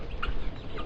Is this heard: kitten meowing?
no